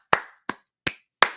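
Four crisp, evenly spaced hand claps ring out alone, each one loud and close with a short, clean decay.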